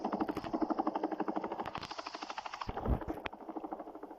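Helicopter rotor chopping in a battle royale video game, a steady rapid pulsing thump throughout with a few sharp gunshot-like cracks mixed in near the end.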